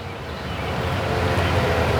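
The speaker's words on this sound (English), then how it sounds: "Watching the water fountain cascade down the tiers and listening to that sound" Water from an outdoor tiered fountain spilling and cascading down its levels, a steady continuous wash of falling water heard close and fairly loud throughout, with no talk.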